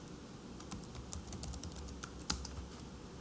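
Login credentials are typed on a computer keyboard in a quick, irregular run of close, crisp keystrokes over quiet room tone, with one slightly louder key press near the end.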